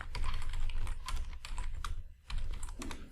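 Rapid typing on a computer keyboard while working in a Python interpreter, with steady close clicking key strikes that run throughout and pause briefly near the end, no voices.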